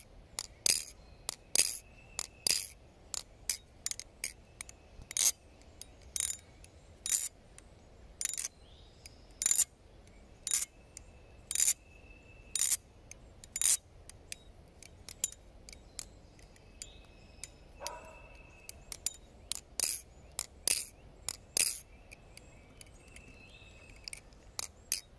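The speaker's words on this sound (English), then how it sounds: "you compare that sound of a knife with replaced male pivot screws" Monarch clone butterfly knife with replaced pivot screws, fully broken in, flipped repeatedly: a long run of sharp metallic clicks and clacks in quick uneven bursts, close and crisp, with no talking.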